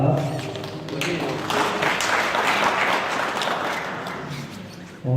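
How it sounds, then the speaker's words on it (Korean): A crowd at an event on a painter's life and art applauds steadily for several seconds, a dense wash of clapping that swells and then slowly fades. "큰 박수 부탁드립니다"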